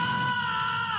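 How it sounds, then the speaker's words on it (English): A character's death scream from the video game Fire Emblem: Three Houses, a single sustained, strained cry held at a steady pitch for the whole second, loud and alone. "He sustained the scream really well."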